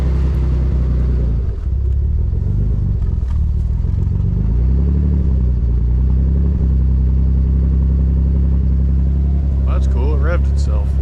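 A Nissan 300ZX Turbo engine runs close by with a steady, deep drone that swells in revs partway through, then settles back to a rumbling idle.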